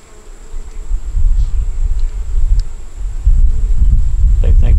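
Honey bees buzz around hive frames in a steady, close drone that grows louder partway through, with handling noise from the frames.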